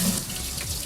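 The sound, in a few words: rinsing the knife block container under running tap water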